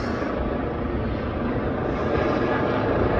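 A loud, steady roar from a police aircraft hovering overhead, droning continuously without fading, with no voices.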